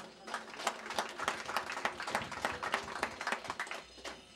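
Crowd applause at a paving inauguration ceremony in the Guatemalan village of Yacxap, Soloma: steady, fairly faint clapping from many hands, continuous for several seconds.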